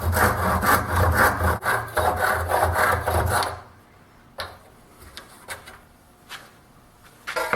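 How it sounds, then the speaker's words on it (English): A protruding wooden door latching pin on a wooden stacking storage box is sawn off with quick, rhythmic rasping strokes for a few seconds, followed by quiet handling taps and small clicks. "With the door latching pin extended, cut it off so there's about 1/2 inch protruding."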